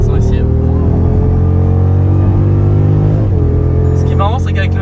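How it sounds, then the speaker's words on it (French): A tuned stage 2 Jeep Grand Cherokee SRT engine drones steadily while driving, heard from inside the vehicle as a loud, sustained hum with a whistling, supercharger-like tone. "avec le son, on dirait que t'as un compresseur sans avoir un compresseur"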